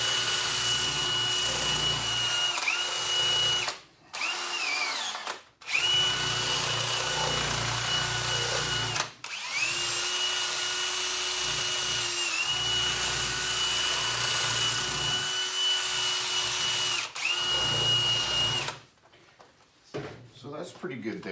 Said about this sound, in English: You can see the taper works really nice for getting in between these runners